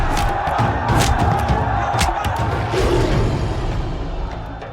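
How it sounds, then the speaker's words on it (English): A crowd roaring in cheers after a martial arts fight between a Silat fighter and a Muay Thai fighter, a dense, loud, sustained mass of shouting voices with scattered thumps and whoops. "The crowd erupts in cheers, lifting Datuk Mior on their shoulders like a hero"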